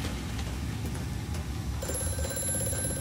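A telephone ringing in Amnesia: A Machine for Pigs, a steady rapid bell trill that enters partway through over a loud, dense rumbling game ambience, with no voices.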